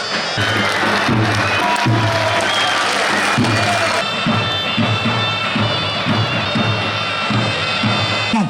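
Large open-air crowd at a Turkish oil wrestling final between head wrestlers, sustained loud applause and cheering with a steady dense roar and rhythmic low thumps throughout.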